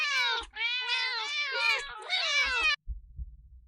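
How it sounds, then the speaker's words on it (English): Many cats in the video game Do NOT Take This Cat Home meow together, a loud, sustained chorus of overlapping high meows that cuts off abruptly, followed by a low, quiet rumble. "You look behind you only to see dozens of cats standing there, looking at you."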